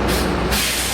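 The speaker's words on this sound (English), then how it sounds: "It's when they let off the brakes." Air brakes release on a 2015 New Flyer Xcelsior XT60 articulated trolleybus, SFMTA Muni bus on Route 30, giving a loud, sudden hiss that continues through the moment over low rumbling.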